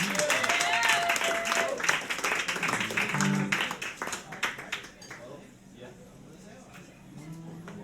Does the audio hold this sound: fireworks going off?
no